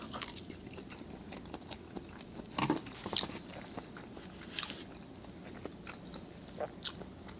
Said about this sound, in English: I'm gonna give it another nice bite of that lobster tail.